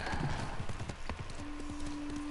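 Game horse trotting, hooves clip-clopping in an even, repeated rhythm under a continuous bed of ambient game noise, with a steady tone entering partway through.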